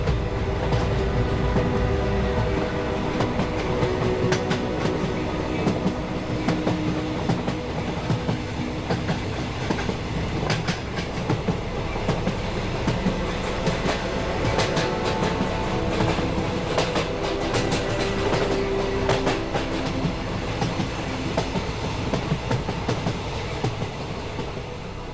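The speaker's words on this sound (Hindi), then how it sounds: "मी नियमगिरीला जाण्यासाठी पुण्यातून रेल्वेला बसलो" Passenger train ride out of Pune, with steady loud rolling rumble and rhythmic clickety-clack of wheels on rail joints, continuous throughout with occasional sharper metallic clatters and no talking.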